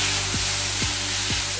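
Ginger-garlic paste and tomato fry loudly in a pan while being stirred, a dense steady sizzle close up, broken by three evenly spaced scraping strokes.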